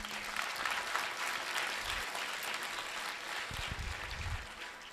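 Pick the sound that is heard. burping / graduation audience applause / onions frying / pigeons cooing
graduation audience applause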